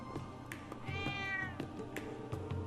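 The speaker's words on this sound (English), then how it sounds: "Oh, it's a cat." A cat in the game Trails of Cold Steel 3 gives one clear, close meow partway through, over a soft game background with light rhythmic thuds. No one speaks.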